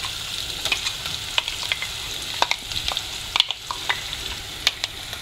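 Ground onions and desiccated coconut sizzle and fry in ginger-garlic paste for a spicy egg curry, a steady hiss broken by repeated scraping stirs and small crackling pops, close and without talk.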